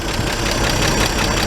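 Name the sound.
1941 G-506 truck engine idling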